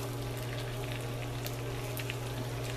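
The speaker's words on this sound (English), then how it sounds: "now that we got that up to a pretty nice fry, we're gonna throw in our potatoes" Potatoes sizzle and fry in a pan as they caramelize, a steady broadband crackle under a low constant hum, with no one talking.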